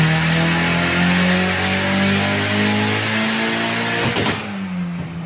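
A rear-wheel-drive Mitsubishi Evo fitted with a CA18 engine holds a loud, close rev with a strong, steady engine tone, then the revs drop away near the end.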